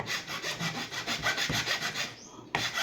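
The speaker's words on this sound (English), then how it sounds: "So the next thing that I'm going to do is to remove the burrs on this area" A hand file rasps the burrs off a broken desk lamp arm in steady back-and-forth strokes, close and even, then stops briefly before one more stroke, with no voices.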